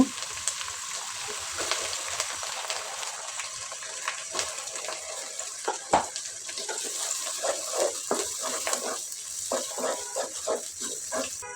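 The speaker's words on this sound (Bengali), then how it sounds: "পেঁয়াজটা একসঙ্গে দিয়ে একটু ভেজে নিতে হবে" Chopped onions frying in oil in a pot make a steady, moderately loud sizzling hiss. Scattered clicks and scrapes from stirring run through it, and no one speaks.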